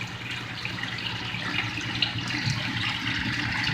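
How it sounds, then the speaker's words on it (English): Water pours through a filter of a 450-gallon pond system and rains down onto bio balls, a steady close splashing trickle with no pauses and no voices. "It also helps spread the water out to rain all over the bio balls."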